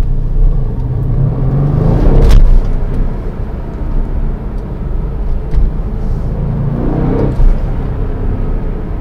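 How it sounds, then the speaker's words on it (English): A 2020 Mercedes-AMG C63 S Estate engine rumbles steadily and loudly while driving, with two brief surges of revving, one early and one near the end, and no talking. "today we are driving the Mercedes AMG C63S Estate"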